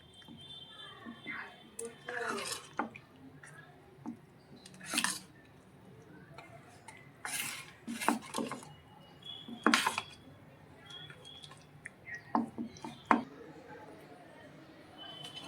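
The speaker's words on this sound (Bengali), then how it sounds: "আমি একটু একটু করে দিয়ে মেশাচ্ছি।" Thin taal malpua batter being stirred in a bowl while water goes in bit by bit, giving soft wet squelches and clinks of utensil against the bowl in irregular bursts, close and fairly quiet.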